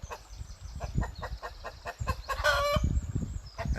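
A rooster crows outdoors in rural Corsica, one loud drawn-out call rising over a bed of clucking hens and farmyard noise.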